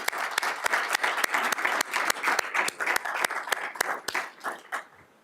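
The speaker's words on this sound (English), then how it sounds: "How about a round of applause for Castleview?" A round of applause for the Castleview choir at a school board meeting: a modest group clapping with distinct individual claps audible, steady at first and thinning out near the end.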